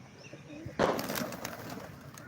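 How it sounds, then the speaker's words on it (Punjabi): A domestic pigeon gives a soft, low coo against a quiet background, a single brief call that trails off. "ਇਹ ਦੇਸੀ ਕਬੂਤਰ ਹੈ"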